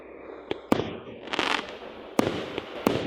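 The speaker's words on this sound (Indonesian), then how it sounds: "Itu adalah jenis kembang api." Fireworks pop and crackle in the distance, several sharp bangs scattered irregularly over a few seconds with a brief fizzing burst in the middle.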